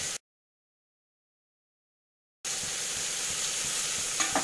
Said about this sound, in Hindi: गोभी को हम घी में थोड़ा फ्राई करेंगे